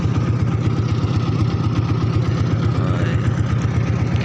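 A boat engine runs steadily during a foggy winter-morning river crossing, a loud continuous low throbbing drone that fills the whole stretch without break.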